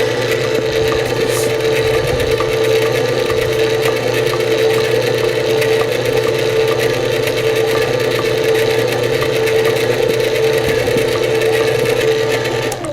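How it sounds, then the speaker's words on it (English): A stand mixer with a paddle beats cake icing in a bowl, giving a loud, steady motor whir with a faint rhythmic rattle that runs unchanged throughout, with no talking. "We're going to stop mixing, remove the paddle, and remove the bowl."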